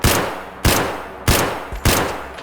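Four loud SKS rifle shots in the shooter game Escape from Tarkov, fired semi-automatically about half a second apart, each with a sharp crack and a decaying echo.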